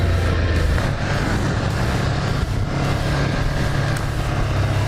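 Ducati motorcycle on a test ride day with the throttle opened, a continuous engine roar mixed with wind rush, rising and falling slightly, no talk.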